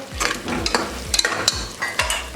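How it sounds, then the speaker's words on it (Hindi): A spoon stirring spiced chickpea soup in a cooking pot over sizzling heat, with repeated scraping strokes and metallic clinks in a steady rhythm, close and clear, with no talking. "इसको अच्छे से मिक्स कर लेंगे।"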